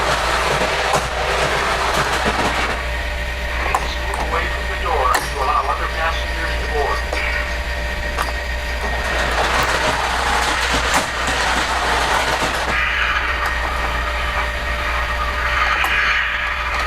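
A Polar Express model freight train pulling a bell car runs forward on its track, its steady rumble and rail clatter close by while someone talks over it.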